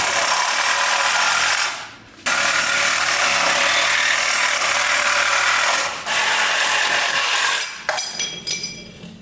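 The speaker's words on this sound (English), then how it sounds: "And then we'll just cut this portion of the perch off." A power tool cuts off the control arm perch on a 2024 GMC Denali Ultimate truck. It is a loud, steady, high-pitched grinding whine that breaks off briefly twice and ends in sputtering bursts.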